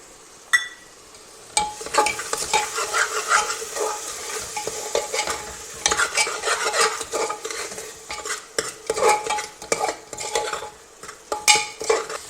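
Tomatoes simmering in curd in a pan, with steady stirring scrapes, soft sizzling and occasional clinks of a spoon against the metal, close and continuous with no talking.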